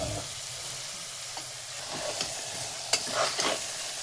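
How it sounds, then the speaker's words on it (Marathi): Rice being sautéed in a spice mix with peas for pea rice, a steady sizzle with scraping stir strokes and a few louder clatters near the end, close and alone. "छान परतून घेऊया तांदूळ या मसाल्यामध्ये."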